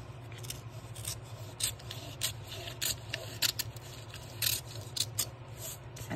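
Scissors snipping open a stack of junk mail envelopes, a run of sharp close cuts in an irregular rhythm, loud and alone with no talk.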